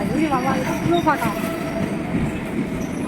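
Train noise at a station, a steady rumble of rail cars with some brief squeals, heard under people talking close by.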